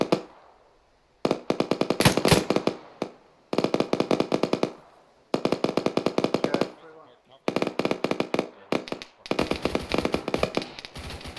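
Long bursts of heavy automatic cannon fire from a BTR armored vehicle rattle in rapid repeated volleys, loud and close, separated by brief pauses.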